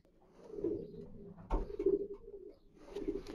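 A racing pigeon, a fast female from a large competition, gives soft low coos close by, three throaty phrases separated by brief pauses in a quiet space.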